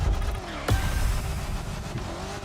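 Corvette hypercar engine in The Crew Motorfest racing game, a loud near revving whine with shifting pitch, a sharp burst partway through and a sustained high engine drone after it.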